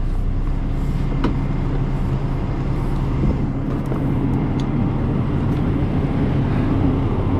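Truck engine idling steadily to warm up on a cold day, a continuous low rumble that stays loud and even throughout, with no talking.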